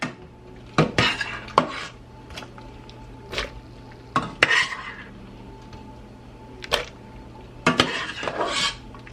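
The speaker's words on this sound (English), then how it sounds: "So I've got these really hot boiling potatoes and carrots. I'm going to put them in my blender" Hot boiled potatoes and carrots are scooped into a blender in a home kitchen, sharp clinks and clatters of utensil against dish in scattered bursts over a quiet background.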